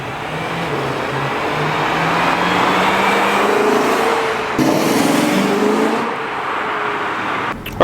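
BMW E9X M3 V8 with an AFE carbon fiber intake, driven under load: a loud, sustained engine note climbing steadily in pitch through the revs, a brief dip and shift midway, then pulling hard again.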